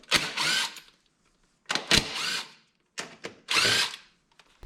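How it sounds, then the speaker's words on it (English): A power drill or impact driver whirs in short bursts while backing bolts out of the intake manifold on a Subaru STI, loud and close, with brief clicks and rattles between the runs and no speech. "So what I'll do first is take these bolts out."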